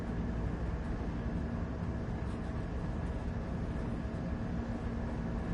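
A heavy freight train with seven locomotives, four on the front and three on the rear, in Train Sim World 3 on Cajon Pass gives a steady, low, continuous rumbling drone at a constant level.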